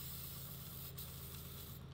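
Aerosol throttle cleaner sprayed into the intake of a Mercedes engine being started after long disuse, a steady close hiss lasting throughout over a low mechanical hum.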